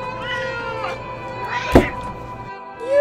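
A cat meows clearly and close several times in a cartoon adventure, with tonal music running underneath and a thud partway through.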